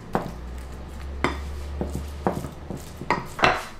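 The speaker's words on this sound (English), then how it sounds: "going to transfer the cooked meat into a Pyrex dish or any baking tray you can use. Press and spread it evenly." Cooked meat for a cottage pie is pressed and spread into a glass Pyrex dish, with intermittent close scraping and clinking of a utensil against the glass over a steady low hum.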